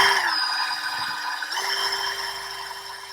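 A steady whirring power drill motor drones continuously, mixing mould-making material at a constant speed, shifting pitch slightly partway through.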